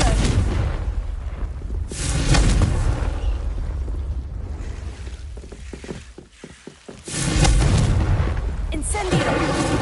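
Confringo explosive spell cast in Hogwarts Legacy, several loud blasts with rumbling, rushing tails, spaced a few seconds apart, with a voice speaking between them.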